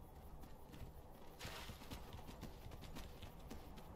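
Horse hooves clip-clopping at a walk in Skyrim, a steady, soft beat of footfalls under a faint game ambience.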